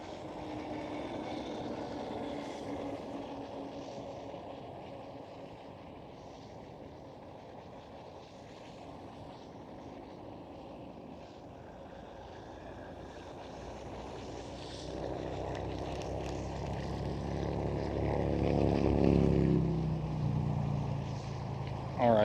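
A Lufthansa airliner passing near Amsterdam Schiphol airport, a steady broad engine roar that swells louder toward the end as the aircraft draws close.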